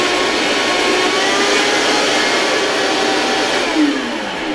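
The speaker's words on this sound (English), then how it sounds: "I'm going to go ahead and blend that." A blender whirs steadily and loudly at close range, purees a green comfort soup with a constant roaring motor and swirling contents, and its pitch shifts slightly near the end.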